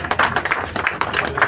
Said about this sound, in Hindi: जोरदार ताली बजाकर स्वागत करें